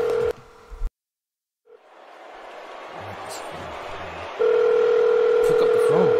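A telephone call is placed: a steady dial tone cuts off, then a short silence gives way to rising line hiss before a loud, continuous telephone tone returns.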